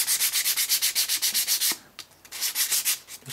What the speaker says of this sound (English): real light sand all over